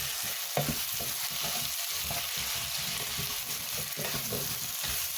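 A spoon stirs spices and potato through a pot of mutton soup over high heat, scraping in repeated rhythmic strokes against a constant hissing sizzle, close and fairly quiet with no talk.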